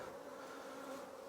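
Honey bees hum inside an open hive during an inspection, a steady, faint drone with no breaks and no voices.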